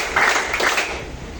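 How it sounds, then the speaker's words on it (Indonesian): A class of schoolchildren claps together, with a few loud group claps in quick succession close by, then fading. "Tepuk 3 kali."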